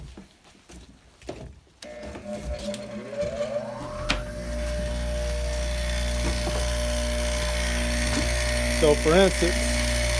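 A grinder runs steadily against the edge of a handmade leather belt, a sustained whirring hum that starts after brief talk and holds on at moderate level, with a few short scraping squeals as the edge is smoothed.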